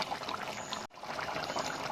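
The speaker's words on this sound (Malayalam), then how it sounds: "എന്നിട്ട് നമുക്ക് തേങ്ങ ഒഴിക്കാം" Coconut milk pours into a chicken curry in a soft, steady trickle, briefly interrupted by a short gap, then continues pouring.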